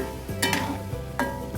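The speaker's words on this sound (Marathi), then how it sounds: "सगळे गुलाबजामुन परफेक्ट असे तळले जात आहेत" Gulab jamun frying in oil give a soft, steady sizzle, close and quiet, with a few brief stirring or utensil clinks on top.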